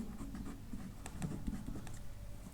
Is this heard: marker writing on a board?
yes